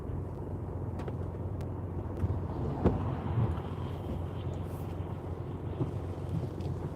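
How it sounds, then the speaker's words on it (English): Wind buffeting a microphone inside a car driving through heavy rain in Wigan, a continuous low rumble with scattered knocks and rain texture, fairly close and steady with no talking. "you can hear that wind though, can't you?"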